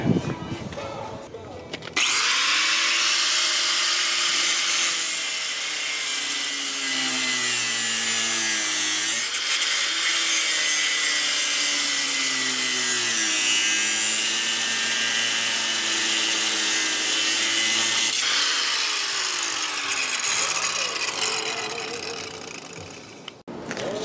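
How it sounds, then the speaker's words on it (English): Power cutting tool slicing through the top of a worn ball joint on a Nissan S13 front suspension, a loud steady high-pitched grinding whine running about 20 seconds with slight pitch dips, starting and stopping abruptly. "cut the top of the ball joint off and then press in the new one like I did the other side"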